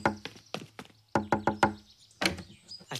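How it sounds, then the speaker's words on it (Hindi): Sharp knocks land in quick bursts of three or four, with pauses between groups, loud and close; they sound like knuckles rapping on a door, with no voices. "रोहित, दरवाजा खोलो।"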